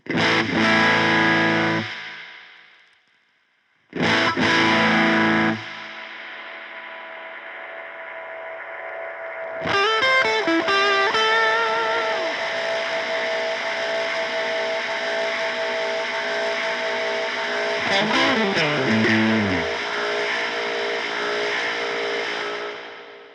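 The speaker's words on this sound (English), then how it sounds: "That is just the crazy noises you can get out of this pedal." A Buzzing Bugs Audio Devices preamp reverb pedal set high spits two short distorted bursts, then swells into a loud, runaway feedback drone with warbling pitch sweeps and a continuous buzzing hum.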